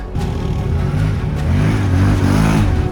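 Quad bikes (ATVs) on a rally route in Lower Silesia, engines revving and droning close by, the sound swelling louder as they ride past.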